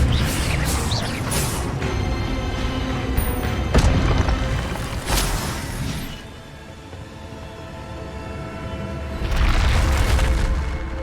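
Incendio fire spell cast in the game Hogwarts Legacy: loud booming, crackling blasts with sharp impacts near 4 and 5 seconds, a quieter rumble, then another swelling burst near the end.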